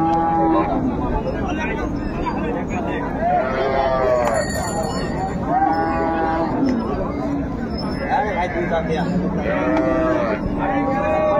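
Dairy cows and calves of improved breeds moo repeatedly at the Raniganj cattle market in Dinajpur, long drawn-out calls rising one after another over a constant crowd murmur of people talking.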